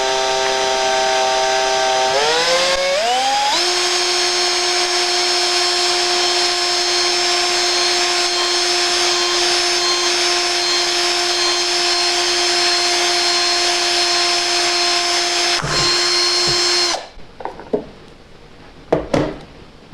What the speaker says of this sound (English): So I'm going to hold my cap in place and place the drill right on top and begin to drill.